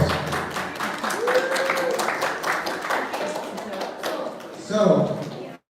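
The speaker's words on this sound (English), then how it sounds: "Let's give her a round of applause." An audience inside a city hall at a Yoga Day program claps after a meditation session, light scattered applause running for several seconds with voices murmuring underneath.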